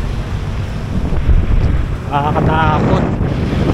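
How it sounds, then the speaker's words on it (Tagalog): Strong wind buffets the microphone with a loud, continuous roar, while a voice speaks briefly partway through. "Oh, lakas ng hangin."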